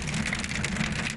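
Heavy rain pours steadily as a dense, even hiss with no pauses, close and moderately loud throughout the short stretch.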